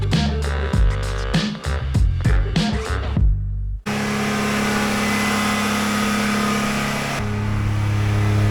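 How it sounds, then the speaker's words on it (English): A BMW M54 straight-six petrol engine revs loud and close in a steady, sustained roar after a short burst of music. "Can't beat the sound of them old straight six engine, old M54 engine in that BMW"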